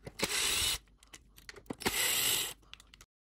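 A powered driver whirs in two short bursts as it backs out 2.5mm hex screws from the wheel of an InMotion V11 electric unicycle during a tire change. Light clicks and handling noises fill the pauses.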